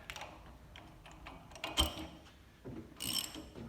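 A hand wrench turns the diving arms of a rebuilt Champion diving arm mixer, producing faint, scattered mechanical clicks and clunks at close range with quiet gaps between them.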